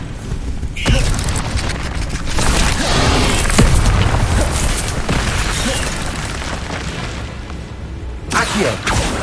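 An Incendio fire spell blasts in Hogwarts Legacy, a loud, sustained roaring burst of flame and rumbling booms that fills most of the clip before easing off near the end.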